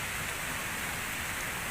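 Light rain falling by a forest waterfall in Attapeu Province, a dense, even hiss of water and drops that holds steady throughout, fairly soft and with no voices.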